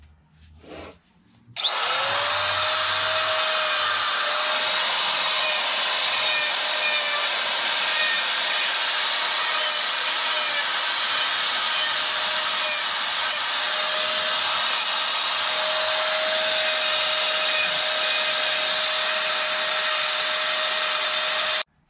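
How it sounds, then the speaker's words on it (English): A rotary tool fitted with a 3/8 bit carves the paws of a chainsaw-cut wooden bear, giving a steady, high, loud grinding whine that runs nonstop after a brief start, with no talking. "I'm gonna take that 3/8 bit and go in and just clean up a little bit and round it over as much as I can"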